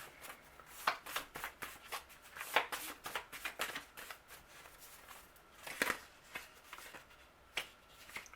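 Oracle cards being shuffled and drawn by hand, a run of quick close papery riffles and flicks with sharp snaps scattered through, no talking.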